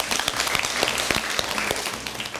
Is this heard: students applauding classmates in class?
yes